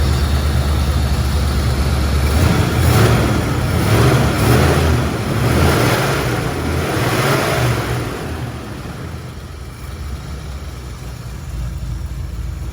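A 1977 Mustang Cobra II engine runs close by, with a smooth steady idle that swells into a few revs midway before settling again, no talking over it.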